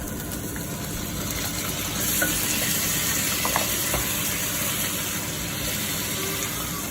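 Chicken browning in a pot for Filipino tinola, a steady broadband sizzle and crackle running continuously at close range with no talking, swelling slightly midway.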